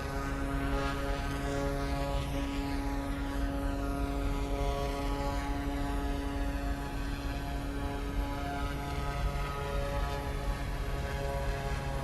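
Turboprop aircraft engine in Microsoft Flight Simulator 2024 on PS5 during a diving descent with power being reduced, a loud, steady, tonal propeller drone that holds constant throughout with no talking.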